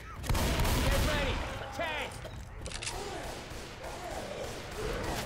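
Dense gunfire in Left 4 Dead's Dead Center on Expert Realism as survivors shoot at the Tank, rapid overlapping shots cracking loud and close, with players' voices talking over the barrage.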